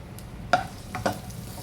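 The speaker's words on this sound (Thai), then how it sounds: "ผัดกระเทียมให้หอมเลยนะคะ" Chili and garlic stir-fried in hot oil over a medium flame, giving a soft sizzle that is broken by a few sharp scraping stirs, heard close up with no talking.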